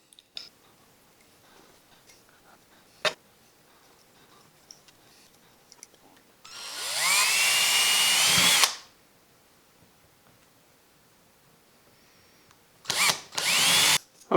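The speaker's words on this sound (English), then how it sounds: "Now we'll just tap these end holes with threads so we can bolt the walnut onto them" A power drill spins up to tap threads into the end holes of a small wall mount, one sustained whining run of about two seconds, then a shorter double burst later, with faint ticks and clicks in the quiet between.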